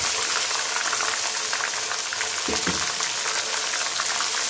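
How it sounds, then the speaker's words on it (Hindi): Onions sizzle and fry in a pan with ginger garlic paste and green chilli paste for an egg biryani, a steady, close, dense crackle that holds evenly throughout with a brief stir partway through. "और इसको 5 मिनट तक अच्छे से भूनेंगे।"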